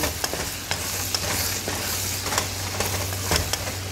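A mixture is stirred in a pan while cooking, a continuous frying hiss with a low hum beneath and sharp periodic scrapes of a spoon, close and without speech.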